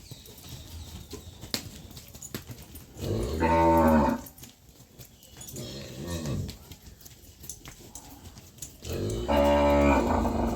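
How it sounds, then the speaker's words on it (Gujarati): Cattle returning from grazing in a forest moo in three long, loud calls spaced a few seconds apart, with faint rustling and a few sharp knocks between them. "આપણી ગાયો જંગલમાંથી ચરીને આવવા માંડી છે"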